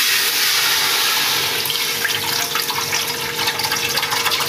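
Packaged milk poured from a packet into a cooking pot for Eid sheer khurma, a steady close liquid stream with splashing that continues throughout, with no talking.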